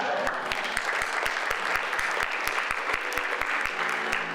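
An audience claps steadily at a spring folktales storytelling competition, with dense sustained applause and sharp regular beats running throughout.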